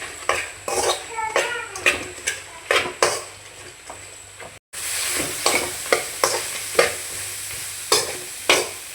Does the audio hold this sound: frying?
yes